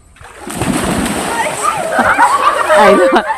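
Adults jumping into a small farmhouse pool send up loud, splattering water splashes that build and slosh through the clip, with lively voices talking and shouting over them.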